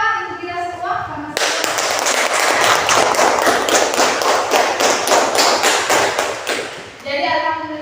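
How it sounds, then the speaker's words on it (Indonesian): A classroom of students applauds together, with loud, dense clapping from a close group lasting several seconds, and a voice speaks before and after it. "Sekarang berikan tepuk tangan untuk kita semua"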